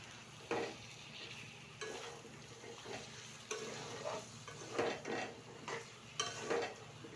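Chicken with masala is stirred in a pot, faint scraping and shuffling strokes in uneven bursts over a quiet, low sizzle.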